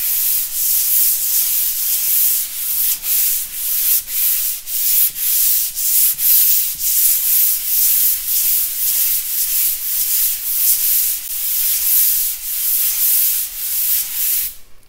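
Rhythmic back-and-forth hand sanding of drywall filler in a stairwell, a bright scratchy rasp repeating in steady strokes roughly twice a second, close and loud with no talking.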